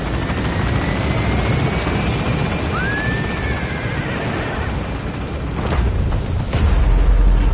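A helicopter in Metal Gear Solid V gains altitude, its rotor and engine a loud, dense continuous roar that swells toward the end, with a brief rising whine mid-way.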